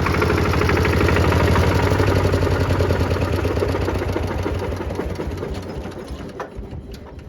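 An old Kubota L13G tractor's engine runs loud and close with a rapid, steady knocking chug that fades slightly toward the end.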